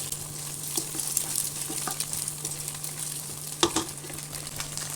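A single egg stirred and frying in a pan before rice goes in, a continuous moderate sizzle with light scraping taps of the utensil and one sharper clink partway through.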